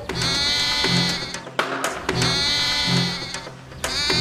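A goat bleats loudly in long, wavering cries, about three calls in a row with short pauses between them, close and clear.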